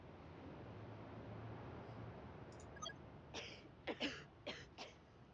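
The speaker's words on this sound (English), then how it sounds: "This cough won't stop" A series of muffled coughs from a patient in the paramedic simulator game Ambulance Life, four or five short bursts in quick succession, over a constant hiss of background noise.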